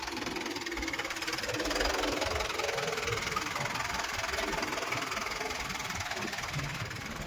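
A farm tractor engine runs steadily nearby with an even rumbling chug and light mechanical rattle, constant throughout with no voices over it.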